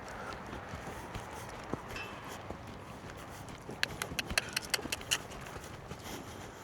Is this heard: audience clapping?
no